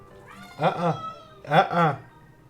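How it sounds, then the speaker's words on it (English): Two drawn-out cat meows in a row, fairly close and clear, with a short pause between them. "He's meowing"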